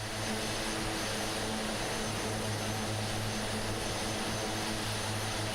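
An Aerosoft Twin Otter in Microsoft Flight Simulator climbs out on its twin propeller engines, producing a constant loud droning roar with a steady low hum and no talking.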